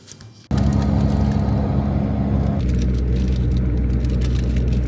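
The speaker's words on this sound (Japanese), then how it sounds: "1時間車で行って" Inside a car on the road to a mountain trailhead in Yamanashi, a low engine and road rumble drones steadily after a sudden start, constant and close with no voices.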